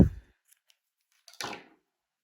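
Scissors snipping crochet yarn on a headband, with one short close cut after a soft thump, then silence, and no talking.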